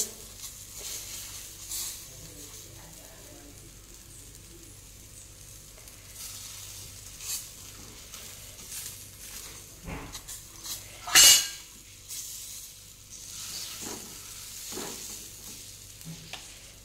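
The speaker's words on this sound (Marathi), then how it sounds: "बघा आता तवा छान गरम झालेला आहे आणि यामध्ये मी आता थालीपीठ बनवणार आहे." Thalipeeth made with bottle gourd sizzles faintly on a hot griddle, with soft stirring and scraping and one loud clattering burst partway through, all without talk.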